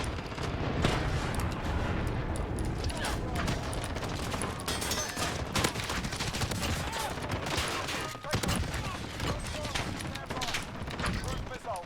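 Dense, loud gunfire fills a shooter video game battle almost without pause, heavy shotgun blasts overlapping with other weapons and explosions, while a player talks over the action.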